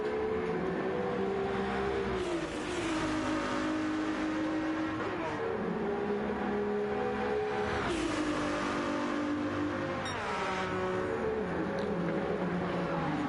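A Ferrari race car screams around the Monza circuit, its engine note rising and falling through repeated gear changes and revs, steady and loud throughout.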